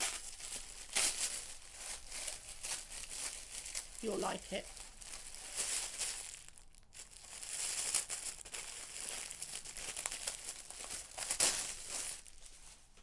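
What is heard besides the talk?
rustling wrapping being opened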